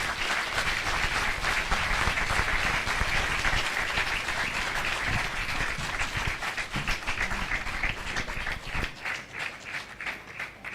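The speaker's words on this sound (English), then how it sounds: "Let the applause be continued." An audience at a moot court competition's valedictory ceremony applauds continuously, dense clapping that stays strong for several seconds before thinning into more separate claps toward the end.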